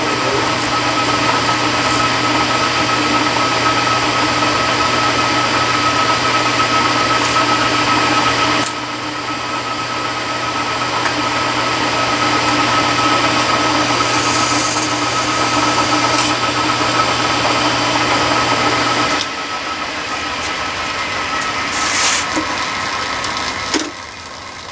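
A milling machine runs steadily while machining a part, a continuous loud motor hum with a cutting whine that drops out briefly and resumes, no talking.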